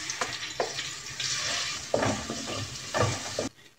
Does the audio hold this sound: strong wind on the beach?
no